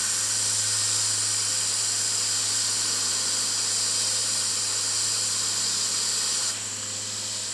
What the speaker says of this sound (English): this is going to be really hot steam coming out here